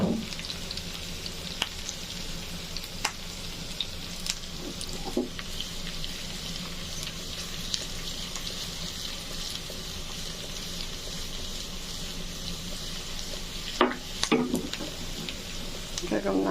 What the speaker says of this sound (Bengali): এরকম নাড়াচাড়া করলে একটু সবগুলো সমানভাবে হতে থাকে